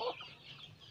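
A chicken at a house gives a brief, fairly faint cluck, heard alone in about a second of sound.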